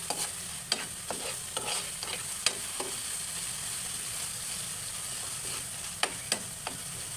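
Corned beef fries in an oiled pan for a guisado, a steady close sizzle punctuated by repeated clinks and scrapes of a utensil stirring.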